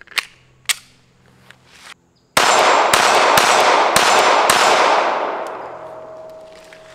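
A Springfield Armory Hellcat .380 pistol firing Winchester hollow point rounds, five loud, sharp shots in quick succession, close by, ringing out into a fading echo after a few quieter clicks.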